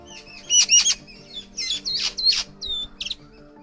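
A racket-tailed drongo, a noted mimic of other birds, gives a close, loud series of varied calls: harsh squawks, ringing whistles and a quick stuttered trill. The calls come in bursts over a low steady background hum.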